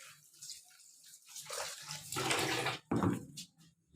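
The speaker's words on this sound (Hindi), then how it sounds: "पालक और प्याज को हम धो देते हैं।" Spinach and onion are washed under running water, a close, steady splashing rush with surging bursts and a brief pause before the flow resumes.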